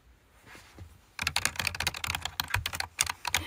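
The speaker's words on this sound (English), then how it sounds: "I'm actually really bad at typing." Someone types on a computer keyboard in a vocal recording room. After a quiet start, a close, rapid, uneven run of key clicks and clacks continues to the end.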